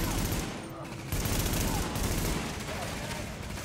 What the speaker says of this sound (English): Bit of blind fire never hurt anybody